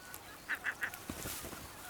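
Spoonbills on the Dutch coast give three quick, honking calls in close succession in the background, fairly faint, followed by soft ambient noise.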